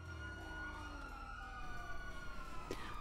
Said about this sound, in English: I hear siren, they might be chasing somebody